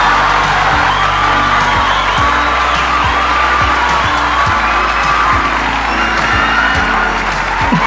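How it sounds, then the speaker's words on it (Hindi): A large studio audience at a talk show cheers, shouts and whistles to welcome a famous YouTuber. The roar is loud and continuous, with whoops and applause layered over a steady thumping beat. "इतना चिल्ला रहे हैं सब, इतना सीटी मार रहे हैं।"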